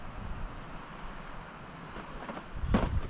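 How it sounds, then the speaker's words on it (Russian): Wind sweeps through a snowy winter forest, a steady soft rush with gentle gusts and a brief louder buffet near the end. "О, ветер какой."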